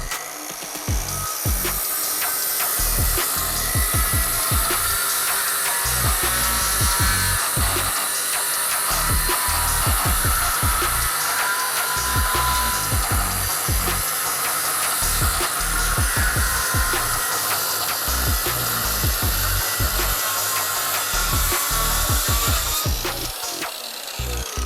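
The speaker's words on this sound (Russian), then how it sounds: "Пила будет работать на полном вылете, то есть это 60 мм." A Makita 5477NB hypoid circular saw, 1.8 kW at 4500 rpm with the blade set to a full 60 mm depth, cuts through wood in a loud, continuous whine for the whole span, with rough grinding texture and no talking.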